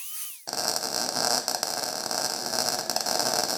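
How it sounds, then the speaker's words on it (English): An angle grinder fitted with a flap disc sands a metal surface flat and down to bare metal in an engine bay. It starts after a brief quiet moment and then runs as a loud, steady, close-up whirring hiss. No talking. "I'm going to take my angle grinder with the flap disc and then sand it flat and also get it down to nice, good bare metal"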